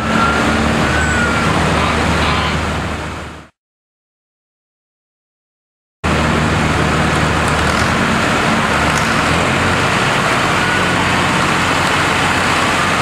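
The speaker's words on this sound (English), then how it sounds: "Richard Rieger on the 135 Massey" A Massey Ferguson 135 tractor moves in a homecoming parade, giving steady broadband engine and road noise that breaks off into a few seconds of silence partway through before resuming at the same level.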